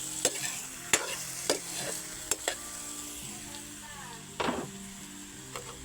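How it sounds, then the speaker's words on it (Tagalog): Vegetables stirred in a frying pan give a soft sizzle under sharp clacks of a utensil against the pan, a handful of spaced strikes, fairly quiet and close. "Halo-halo muna natin."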